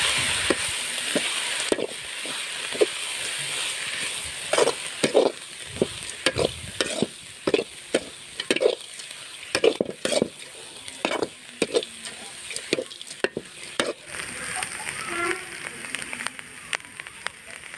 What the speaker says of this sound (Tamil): கீரை பார்த்தீங்கன்னா நல்லா எண்ணெயில் வந்து வதங்கிடுச்சு